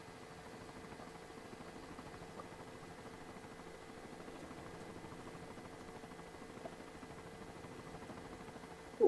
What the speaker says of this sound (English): And here comes the chopper